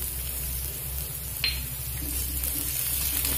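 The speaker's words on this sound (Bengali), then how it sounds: "দেখুন আদা লঙ্কাটা একটু ভেজে নিয়েছি" Chopped ginger and green chilli frying in a pan for a Bengali vegetable chop filling, a soft steady sizzle with low stovetop rumble and one brief clink partway through, no voices.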